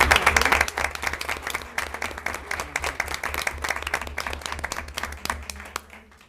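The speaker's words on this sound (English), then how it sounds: "I think we ought to give them a big round of applause" Applause fills a city council meeting chamber, many people clapping in a brisk, irregular patter that stays loud and then begins to thin toward the end.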